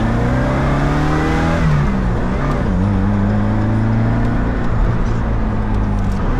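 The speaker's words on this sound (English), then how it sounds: "it doesn't sound bad for a 4-banger" Manual BMW Z4 with a four-cylinder engine accelerating hard, a steady loud engine drone with rising and shifting harmonics, heard from inside the car with no talking.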